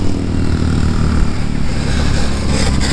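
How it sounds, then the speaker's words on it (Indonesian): A lowered motorcycle in Thailand leans through a corner, its engine droning loud and steady close by with a rough, continuous scraping hiss layered over it and no talk. "nikung sampai gesruk motornya"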